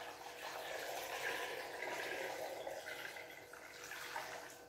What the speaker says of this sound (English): The next thing we do is make sure we add water to cover.